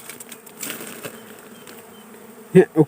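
Dwarf honey bee colony on a branch gives off a steady faint buzzing hum throughout, with a few louder close bursts near the end; someone speaks briefly.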